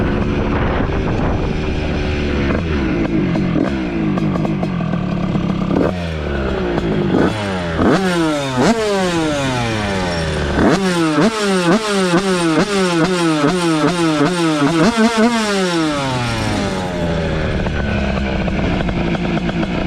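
A 50cc moped fitted with a 115cc LMR engine kit revs hard in the countryside, its two-stroke whine climbing and dropping through repeated sweeping throttle blips and gear changes, loud and close throughout.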